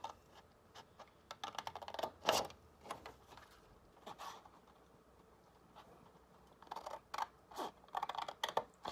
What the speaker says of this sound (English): I'm going to grab scissors.